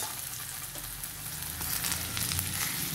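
Ginger-garlic paste sizzles and fries in hot oil for a chana dal dish, a steady, close, continuous crackle with faint stirring and no talk.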